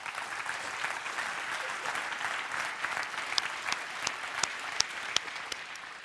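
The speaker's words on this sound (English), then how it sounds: "Let's give him a round of applause." An audience applauds, steady clapping from a crowd heard at a moderate distance, with a few sharper individual claps standing out toward the end.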